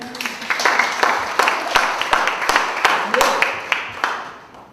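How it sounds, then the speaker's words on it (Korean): A church rally audience breaks into sustained clapping, a dense, loud patter of many hands that swells and carries on steadily over several seconds. "여러분 박수 한번 쳐주세요."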